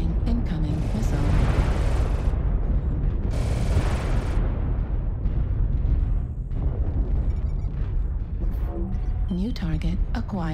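A missile blast in MechWarrior Online booms loudly in the opening seconds, followed by further rumbling explosions and mechanical noise, while a synthetic voice speaks over the action.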